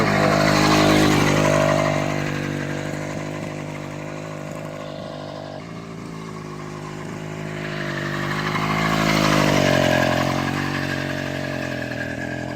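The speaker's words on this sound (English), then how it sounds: "Here we are with the final finished project of the running motorcycle." A running motorcycle engine, finished project bike, drones close by and rises and falls twice in pitch and loudness as it revs up and settles, with no talk.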